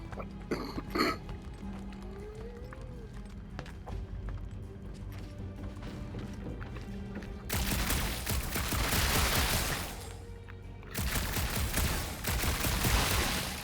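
Gunfire in the Guardians of the Galaxy game: dense bursts of blasts and crashes in two loud stretches, following quieter ambience with a few brief sharp clicks near the start.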